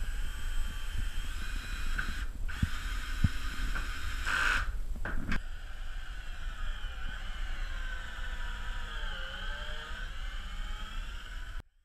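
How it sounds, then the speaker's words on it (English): A power drill whirs steadily as it drives screws into the wooden corner frame of a small sailboat build, with a higher-pitched whine for the first few seconds, then a lower steady drone. "Put the first screw in."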